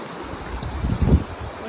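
White Rabbit Creek runs along a wilderness trail near a campsite, a soft steady rush of flowing water with a brief louder burble, heard at a short distance with no voices.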